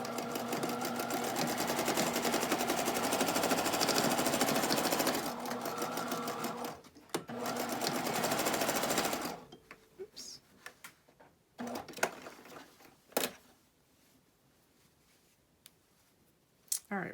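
A sewing machine stitching with red thread in the bobbin runs loud and close in a steady rapid whir for several seconds, pauses briefly, runs again, then stops, leaving scattered handling clicks and taps.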